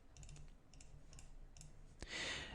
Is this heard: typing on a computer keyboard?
yes